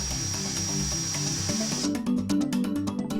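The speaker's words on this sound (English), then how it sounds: "disengage the trigger lock and trigger the sprayer for approximately 10 to 15" A Graco TrueCoat Pro II handheld sprayer sprays flushing fluid with a steady, close hiss and motor buzz. After a couple of seconds, rapid rhythmic clicking and rattling pulses take over.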